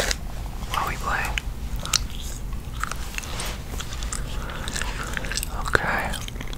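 Peppermint Cobalt gum is chewed close to the microphone, giving soft wet smacks and crunchy bites throughout, with quiet whispering and game sounds in the background.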